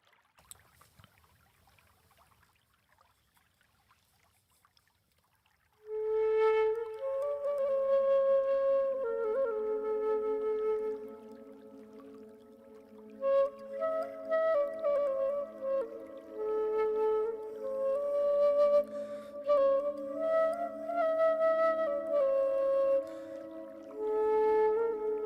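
A small Native American flute plays a slow, breathy melody after a few seconds of near silence, its notes sustained and gently wavering, close and clear with no voices.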